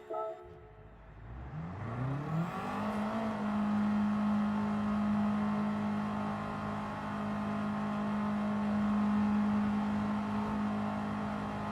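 A Subaru GR.3 race car in Gran Turismo at the Daytona road course revs up from near silence into a steady, sustained engine drone that holds at a constant pitch, loud and close.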